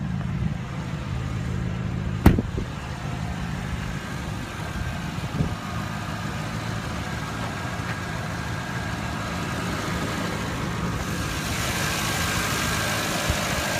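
A 2016 Porsche Cayenne Turbo's 4.8-liter twin-turbo V8 idles with the hood open, a steady low rumble and faint whine held evenly throughout, with one sharp click early on.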